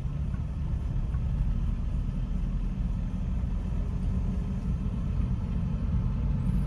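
Steady, close engine rumble from a car being driven on narrow lanes by a learner driver, holding a constant low drone throughout without a clear rise in pitch.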